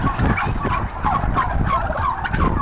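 Turkeys gobbling repeatedly in a loud, close, continuous chorus of rapid warbling calls, with no talking.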